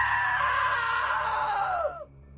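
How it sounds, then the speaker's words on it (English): A single long scream in the video game What Remains of Edith Finch, loud and strained, holding for about two seconds before cutting off sharply into near silence. "Now that was a great scream."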